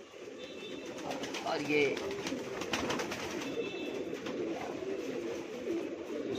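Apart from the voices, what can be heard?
pigeons cooing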